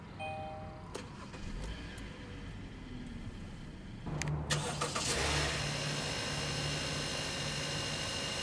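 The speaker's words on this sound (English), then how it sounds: "And now we'll go ahead and start the engine." A 2020 Kia Sportage LX engine cranks and catches around the midpoint, then settles into a steady idle hum after a few clicks near the start.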